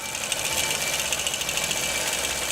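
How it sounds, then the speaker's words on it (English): Sewing machine stitching a quilting line across a quilt block, a steady fast mechanical whir and rapid needle clatter running continuously at close range without talk. "I'm going to start quilting from this right side edge of the block over to the left side edge of the block"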